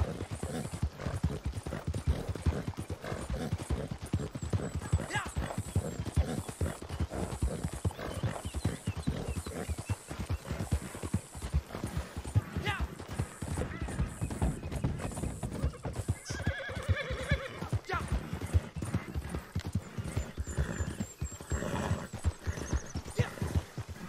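Steady clip-clop of horse hooves in a video game, rapid and continuous, with a whinny rising partway through over the running gait.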